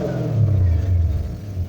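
A Toyota DX spin car powered by a 1UZ V8 engine gives a short, close, low rumbling rev with an uneven throaty pulse, heard alone without talk.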